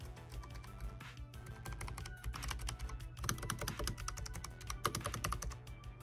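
Continuous typing on a Corsair K100 Air gaming keyboard, a quick irregular patter of close, fairly quiet key clicks over a low steady background hum.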